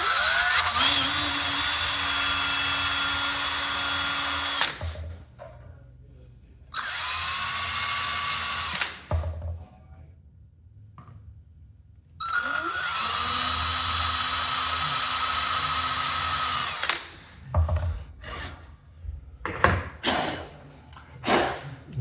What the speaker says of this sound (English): You definitely want to drill a pilot hole.